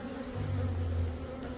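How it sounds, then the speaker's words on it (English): Honey bees in a hive inside a house wall buzz in a thick, steady drone nearby, the hum swelling slightly midway through the short stretch. "I want to scoop the bees out first, though."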